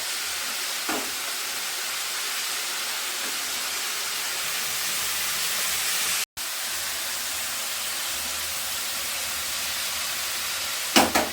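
Cabbage with ginger and turmeric powder being mixed and sautéed in a pan, a steady broad sizzle with scraping of the stirring running throughout, briefly cutting out near the middle, and a couple of sharper utensil knocks at the end.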